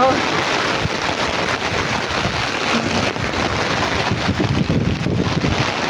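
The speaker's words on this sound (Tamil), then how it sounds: "நம்ம வீட்டுக்கிட்ட ஜோராக பேசினது மழை" Heavy rain in Bangalore pours down in a dense, steady roar with no breaks, loud and close, mixed with a rushing, wind-like hiss.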